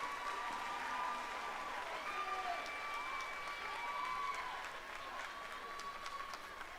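Audience applause in a livestock show arena during a lamb show, a steady wash of clapping that holds for several seconds and slowly tapers, with faint tonal sounds and a bit of background voice underneath.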